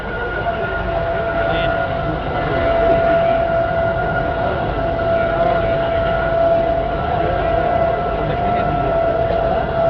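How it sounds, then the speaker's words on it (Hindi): A train rolls past with a loud, continuous rumble and a sustained horn-like tonal whine riding on top, steady for the full ten seconds. "ट्रेन जरा गुजर रही है"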